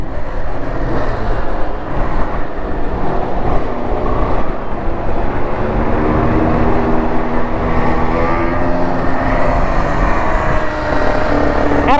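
Aprilia RS250 two-stroke motorcycle engine running steadily, a continuous loud mechanical drone with rising and falling harmonic tones as revs shift, heard alone with some wind noise throughout.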